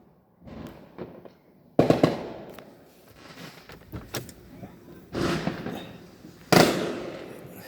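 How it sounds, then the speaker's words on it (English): Fireworks pop and crack outside nearby and all around, several loud bursts and sharp reports spread across the stretch with a rumbling, crackling background between them. "There's still fireworks going on"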